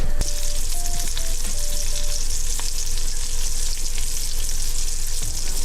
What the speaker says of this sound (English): we got ourselves a fish cooking away